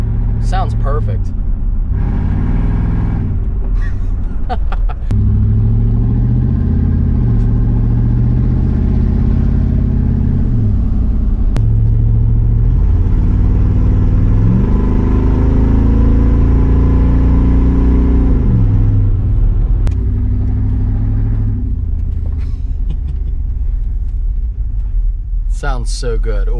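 A Chevrolet Blazer truck with a home-cut exhaust drives along with a loud, deep rumble, its revs swelling and easing several times as it accelerates and backs off.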